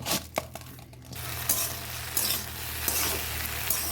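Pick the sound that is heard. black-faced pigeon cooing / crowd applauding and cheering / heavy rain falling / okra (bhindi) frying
okra (bhindi) frying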